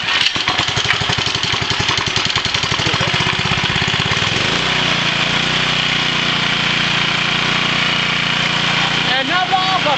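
A small engine on a homemade alternator generator pulls over with a starter cord and fires up, its loud, steady idle running continuously beneath talk, with rhythmic pulsing at the start before settling into an even drone.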